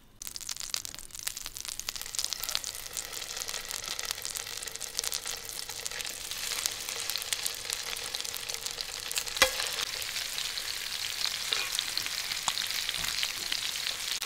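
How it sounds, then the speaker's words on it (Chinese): Yellowfin tuna pieces pan-fry in a hot pan with a steady, close sizzle and crackle running throughout, plus a brief louder clack near the middle. "现在咱们煎的已经非常到位了，给它出锅。"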